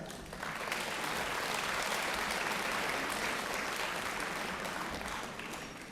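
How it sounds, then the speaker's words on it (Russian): Concert audience applauding during a Days of the Republic of Ingushetia event in Samara: a full hall clapping in a thick, even wash that swells quickly and holds steady, fading slightly at the close. "Под ваши аплодисменты"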